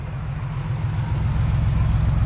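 A car engine idles steadily with a low, even rumble that swells slightly toward the end, close and constant with no talking.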